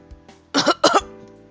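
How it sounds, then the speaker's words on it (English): Two harsh, closely spaced coughs, near and loud, over a faint steady background hum. "His cough lasted for a while."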